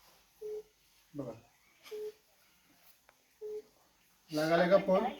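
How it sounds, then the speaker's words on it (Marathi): Short beeps from a phone being redialed without connecting, a few evenly spaced tones with quiet gaps between, followed by someone speaking near the end. "आता बघा मी हा फोन कट करतो आणि परत एकदा लावून बघूया आपण खात्री करूया"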